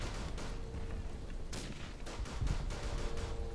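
Gunfire in the World War I shooter game Verdun, several scattered sharp shots and distant cracks at irregular intervals over a constant low battlefield rumble, with no talking.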